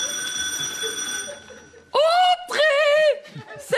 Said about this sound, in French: Sonne à la sonnette